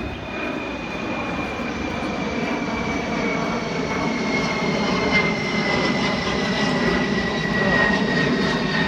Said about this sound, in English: Plane is very loud.